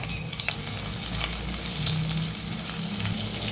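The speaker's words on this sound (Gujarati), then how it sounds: "ઘી ગરમ થાય એટલે એમાં થોડું જીરું ઉમેરીશું, 1/4 ચમચી હિંગ, લીલા મરચાં" Close, crackling sizzle of cumin, asafoetida and green chillies frying in hot ghee, with a few faint stirring clinks, steady and unbroken.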